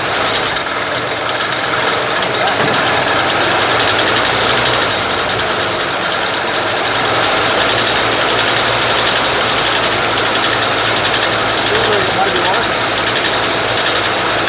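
A 1957 Chevy engine, long neglected, runs just after starting, loud and steady with a rough, rumbling idle and a slight shift in tone partway through.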